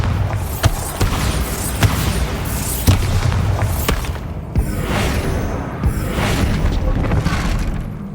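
Bombarda blasting spells in Hogwarts Legacy erupt in a dense run of loud booming explosions with crackling debris, the blasts coming in quick succession and filling the whole stretch.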